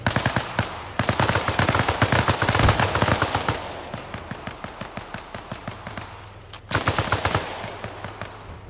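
Rapid automatic gunfire in Arma Reforger rattles in long, loud, close bursts, with a short pause before another fast volley.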